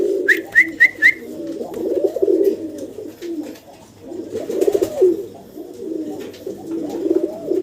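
Pigeons at a pigeon farm coo in repeated low, rolling phrases, loud and close. A few quick high whistles or chirps come near the start, and there is no talk.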